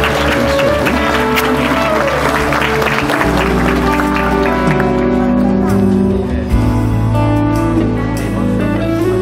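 Round of applause from a church congregation at a baptism service, continuous clapping layered with loud sustained music and crowd sound throughout.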